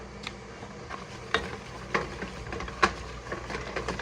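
A spoon stirs roux for mac and cheese in a pan over medium heat, giving faint, sparse scrapes and clicks against a quiet background hiss, with a few sharper knocks.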